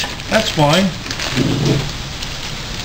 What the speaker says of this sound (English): now it's gonna rain like a bitch